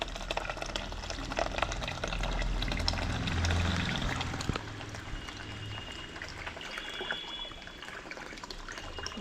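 Water flowing and pouring during household cleaning at home, a continuous splashing trickle with a heavier gush in the first half that settles into a lighter, steady flow.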